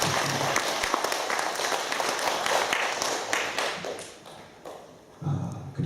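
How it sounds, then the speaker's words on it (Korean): An audience at an investment presentation in a convention hall on the 31st floor of Lotte World Tower in Jamsil gives thick, continuous clapping. It thins near the end, and a brief low voice breaks in. "감사 박수 함께 해주셨으면 좋겠습니다."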